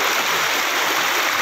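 A river rushes at a falls nature park, giving a dense, steady hiss of flowing water close by that fills the whole short span with no pauses.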